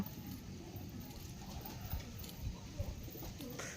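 A newly acquired pair of Giribaz pigeons steps into their loft, giving soft, faint cooing with light pattering and rustling in a quiet enclosure. No one speaks.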